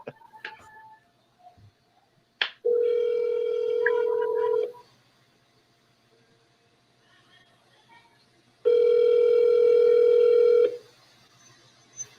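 A telephone gives a steady dial tone twice with a pause between, preceded by a few short dialing beeps and clicks, fairly quiet and clear without talk.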